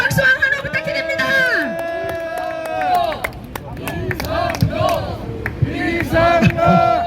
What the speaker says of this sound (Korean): 큰 박수와 환호 부탁드립니다.